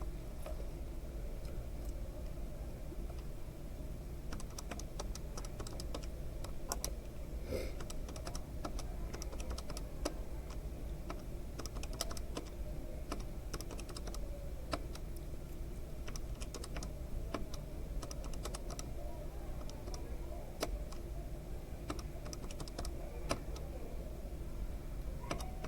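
Fingers tap steadily on a computer keyboard, a long run of quick, light clicks at an uneven rhythm over a faint background hum, with no talk.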